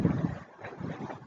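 Wind buffeting a microphone outdoors on a beautiful but breezy day, a low rumbling gusty roar that swells and fades over a second or so, with no speech.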